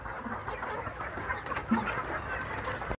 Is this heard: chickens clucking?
yes